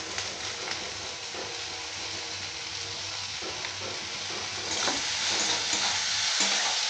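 Onions frying in a pan with salt for peyaz make a dense, steady sizzle with occasional stirring scrapes, close and continuous, growing somewhat louder toward the end.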